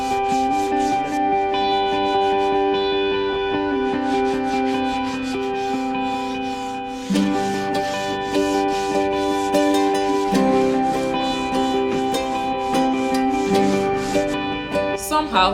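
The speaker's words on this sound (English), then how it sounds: "They started sanding it to make it as smooth as possible." Power sander working over wood for small kitchen cabinets built inside a tiny van in Kenya, a steady close whirring drone with a tonal hum that shifts slightly in pitch as pressure changes, continuous for the whole stretch.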